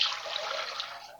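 Vinegar and water pour into a pot for pickling brine, a soft continuous splashing stream lasting about a second before tapering off.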